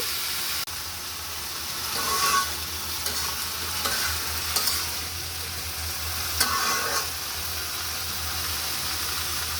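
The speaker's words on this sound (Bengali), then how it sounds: "এখন আমি দিব সিম আলু আর পেঁয়াজের কলি পরিমাণ মতো লবণ" Beans, potato and spring onion stirred and frying in a pan with fish and vegetables, a steady sizzle running throughout with scraping stirs rising and falling, close and fairly loud, no talking.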